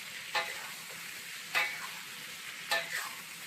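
Food in a campfire skillet sizzles quietly and steadily, with three evenly spaced stirring scrapes rising above the frying, no voices.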